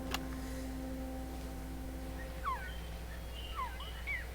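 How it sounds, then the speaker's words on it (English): A recorded quetzal bird call from the video game Metal Gear Solid: Peace Walker, a few short rising and falling whistled chirps repeated at intervals, faint over a low background hum, with no talking. "She went out into the jungle to record bird calls and stumbled upon this."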